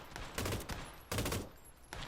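Three loud bursts of M24 sniper rifle gunfire in a video game, spaced roughly a second apart, each a sharp broadband crack with a short decaying tail, and no talking.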